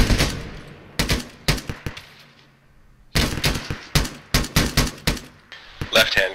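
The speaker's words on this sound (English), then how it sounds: "It's a rifleman up firing directly at us." Rifle fire in a military video game, with bursts of sharp, loud shots in rapid clusters and short pauses between volleys, some rounds closer and louder than others.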